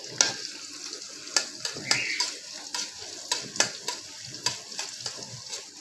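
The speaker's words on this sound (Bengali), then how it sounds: "আমি পেঁয়াজটা লাল লাল করে ভেজে নিচ্ছি" Onions frying in oil in a pan for a boal fish curry, with slit green chillies, sizzle steadily while a spatula scrapes and clinks against the metal in irregular sharp strokes, close up and without voices.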